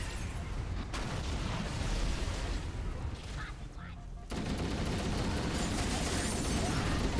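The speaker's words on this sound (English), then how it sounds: "I heard a lot of explosions" Explosions and gunfire in the Halo CE shooter game rumble continuously at a steady loud level, with a brief dip before a fresh heavy burst; voices talk over the battle.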